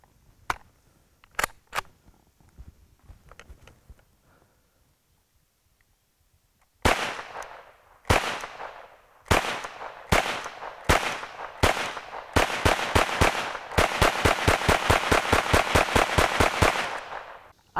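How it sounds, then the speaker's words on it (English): An ATI GSG MP40 firearm is fired at an outdoor range: a few scattered distant shots first, then after a quiet spell loud single shots come in quick succession before breaking into a rapid sustained string of sharp reports. "I'm gonna keep shooting this firearm."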